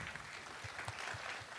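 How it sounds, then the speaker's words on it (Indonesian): Brief, faint audience clapping at a talk show for a beauty pageant contestant, a soft patter of hands at a distance, with low thumps beneath. "tepuk tangan dong untuk Melan."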